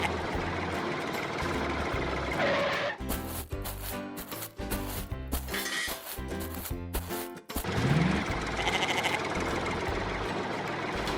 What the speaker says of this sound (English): Let's park the tractor.